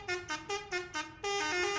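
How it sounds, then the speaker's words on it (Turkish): Vehicle horn honking in a bus-driving video game about a long-distance coach driver: five short, evenly spaced honks, then one long sustained blast, loud and close with no talk. "korna sesleri"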